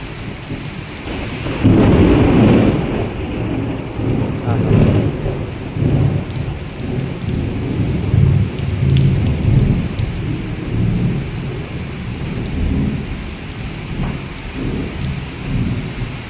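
Heavy rainstorm pouring steadily on surfaces, with loud rolling thunder rumbling through it in long swells, no voices.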